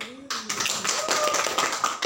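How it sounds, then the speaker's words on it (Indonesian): Classroom applause during a religious studies lesson breaks out suddenly after a teacher's voice, a brief, dense patter of many hands clapping nearby. "Tepuk tangan bukan?"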